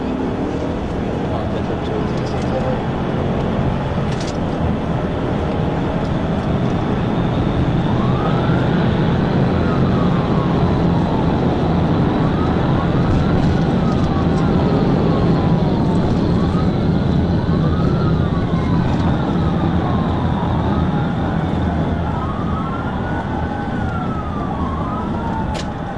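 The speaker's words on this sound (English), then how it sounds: "the trooper had to activate his emergency lights and sirens" A police trooper's car siren wails in rising and falling sweeps during a high-speed pursuit of a black Nissan Altima eastbound on Interstate 281, heard under steady road and engine roar, with radio-style talk at moments.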